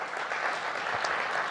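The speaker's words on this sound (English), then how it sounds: "So a round of applause for the gentleman here." Brief audience applause at an event for meeting planners, a dense, steady patter of many hands clapping heard at moderate volume for just over a second and a half.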